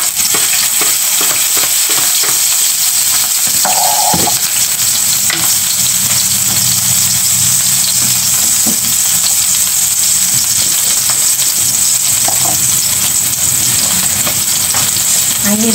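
Tuna pasta with broccoli cooks in a frying pan, a constant loud sizzle close by with scattered clinks and scrapes of stirring, and faint voices in the background.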